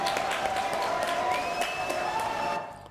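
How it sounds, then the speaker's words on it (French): Audience applause rises as a steady wash of clapping through an indoor French comedy show, fading out at the end, with a voice briefly heard over it. "Applaudissements pour Fictou"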